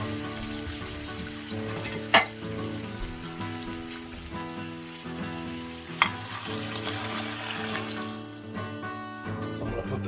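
Duck fries in a pan with a steady crackling sizzle, joined by a couple of sharp clinks of a utensil against the pan while faint music plays beneath.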